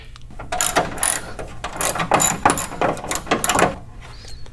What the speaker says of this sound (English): Go ahead and take our 10mm and work on getting all 6 bolts out.